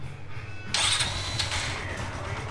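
A motorcycle engine fires up with its valve caps removed, a sudden start followed by a steady mechanical running rumble with ticking valvetrain texture, close and fairly loud.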